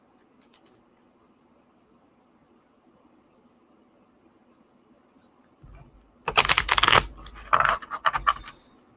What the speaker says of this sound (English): Maybe I can riffle shuffle it.